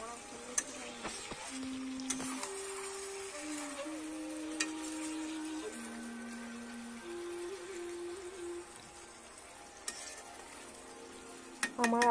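Chicken with whole spices and potatoes cooks in a pan, giving a low, steady sizzle. Occasional scrapes and knocks come from stirring, all close and fairly quiet.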